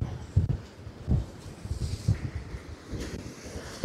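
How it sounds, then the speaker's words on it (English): Wind gusts buffet a tent pitched on a mountain wild camp in the Mourne Mountains, giving low, rumbling bursts of microphone-muffled wind that rise and fall every second or so. "So there's a bit of a gust there going."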